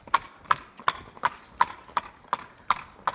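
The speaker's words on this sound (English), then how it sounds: "See how he trots." An ex-racehorse trotting on firm ground in hand, its hooves landing in a steady, even clip-clop, about nine sharp close footfalls in a regular rhythm with no talk.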